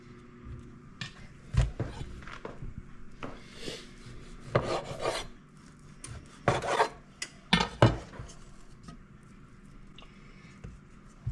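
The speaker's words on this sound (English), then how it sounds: "now we're just going to go ahead and place these back inside the pan here" Dough rolls for pepperoni sausage rolls being set back into a metal baking pan: scattered soft scrapes, rubs and light clunks, close and fairly quiet, with a few sharper knocks spaced irregularly.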